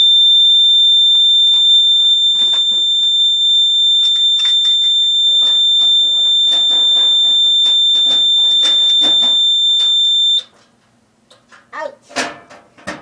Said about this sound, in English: it's the same sound as the piezo buzzer